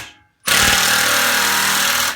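A Milwaukee 2754-20 M12 Fuel 3/8-inch cordless impact wrench on speed 2 hammers loudly and continuously, a fast rattling burst kicking in after a brief quiet moment.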